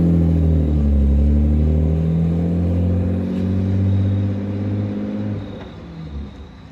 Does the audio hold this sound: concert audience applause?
no